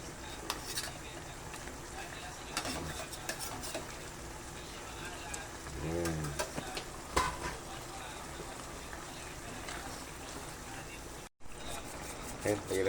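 Milkfish (bangus) frying in a pan and being stirred, a steady sizzle with scraping and clinking of utensils against the pan throughout; a voice talks over it intermittently.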